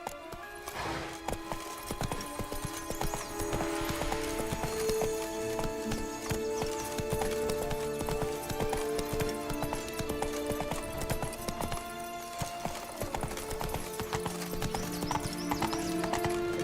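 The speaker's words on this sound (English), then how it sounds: "run, Roach" Galloping hooves clatter in a fast, steady rhythm as a horse runs in The Witcher 3 video game, with occasional whinnies and game ambience underneath.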